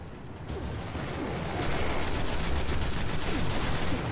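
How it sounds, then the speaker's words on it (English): Enemy gunfire rattles in the Destiny video game on PS4, a dense, rapid string of shots building up after a quieter start and holding steady and loud to the end with no talk. "Oh, he's shooting me."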